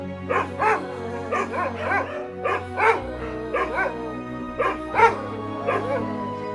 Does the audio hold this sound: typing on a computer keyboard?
no